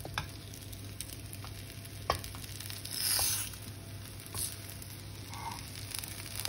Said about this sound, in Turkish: Orta ateşte kapağını kapatarak kızarmasını bekleyeceğim.